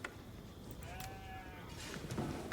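Sheep bleat in the video game Age of Empires 4, a single wavering call and a few softer bleats heard faintly over low ambient game sound, with no talking.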